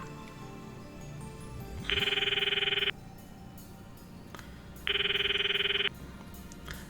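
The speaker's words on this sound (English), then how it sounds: "The ringtone echoes in my ear." A phone ringtone in the video game Steins;Gate Elite rings in two one-second electronic bursts about three seconds apart, over a background of game music.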